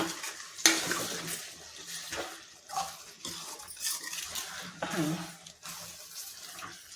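Egg fry being stirred in a pan: irregular scraping and clattering strokes with a faint sizzle underneath, fairly quiet and close, with some soft background noise.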